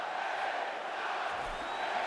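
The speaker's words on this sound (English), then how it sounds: "Oh, the crowd did the LA Knight chant." A game arena crowd in WWE 2K26 chants for LA Knight, a broad, steady roar of many voices sustained throughout without a break.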